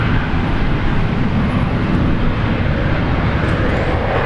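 Virgin Australia domestic jet on flight 462, Brisbane to Perth, at Brisbane Airport, a loud close engine roar holding steady and dense throughout.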